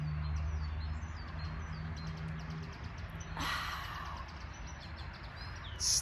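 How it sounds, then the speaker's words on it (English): Small birds chirp and tweet faintly outdoors over a low hum of distant traffic, with a soft breathy rush partway through. "We have bird sounds."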